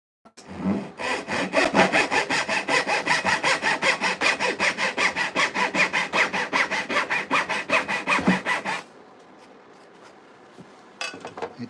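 A 20-teeth-per-inch machine-sharpened handsaw cuts through wood in a steady, even run of close, rasping strokes for about eight seconds, then stops, leaving faint shop noise.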